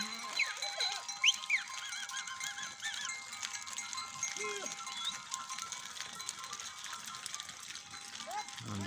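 Goats bleating as the herd returns home at dusk in a Tharparkar village near Islamkot, scattered calls at a moderate distance over a steady outdoor background, with someone speaking throughout.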